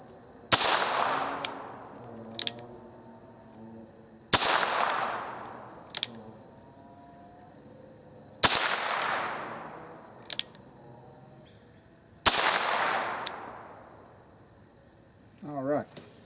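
Four sharp shots from a scoped .22 Smith & Wesson Model 17 revolver at a target range, evenly spaced about four seconds apart, each a loud crack with a short decaying tail, over a steady insect chirp.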